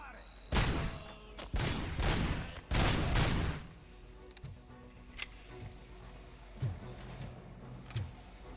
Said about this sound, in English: I think the weapon sound effects are a bit hit and miss, but they absolutely nailed the Auto 9.